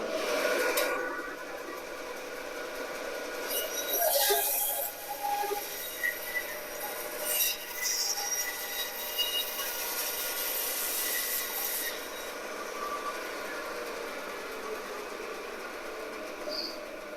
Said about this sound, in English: I'm gonna cut this in half on the bandsaw